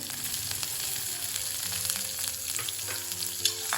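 Curry leaves and finely chopped onion sizzle steadily in a hot pan for idli chutney, a continuous close frying hiss with faint stirring scrapes and no talking.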